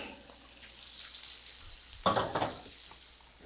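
Steaks in a cast iron pan make a quiet background sizzle, then a sharper burst of frying crackle and scraping partway through as they are moved, with no talk.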